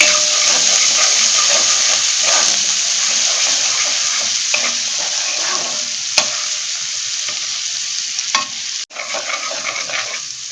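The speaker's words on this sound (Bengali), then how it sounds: "এবার এইটা আমি ভালো করে নেড়ে দিলাম" Okra with ground ginger and chili stirred in a hot pan gives a loud, close sizzling hiss that slowly eases, with scraping stir strokes and a sharp knock near the end.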